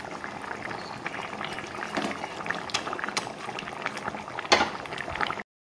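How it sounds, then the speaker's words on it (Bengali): Fish curry broth with pieces of fish boils steadily in a pot, a continuous close bubbling and gurgling with occasional louder pops, ending abruptly. "ঝোলটা সাথে সুন্দরভাবে ফুটিয়ে নিব"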